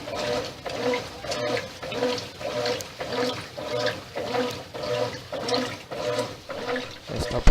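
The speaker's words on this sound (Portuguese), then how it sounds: "Está em agitação e enxágue." A Brastemp 8 kg washing machine in its agitate and rinse cycle sloshes water back and forth in a steady, regular rhythm of repeating swishes, at moderate volume and with no voices.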